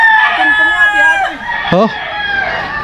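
A rooster crows loudly and close by, giving one full cock-a-doodle-doo among other farm fowl, with a person briefly exclaiming as it starts.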